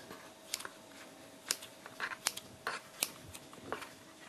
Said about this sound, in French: je vais découper le tour avec une paire de ciseaux